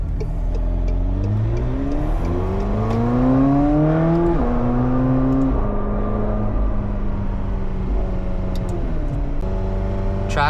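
A McLaren 720S engine rises and falls while driving, with a smooth climbing rev, a shift, then a steady mid-pitched drone and a further rise, heard from inside the car.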